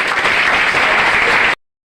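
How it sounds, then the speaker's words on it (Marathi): An audience at a village temple celebration breaks into loud, dense clapping that holds steady, then cuts off abruptly into silence. "एकदा जोरदार टाळ्या झाल्या पाहिजे"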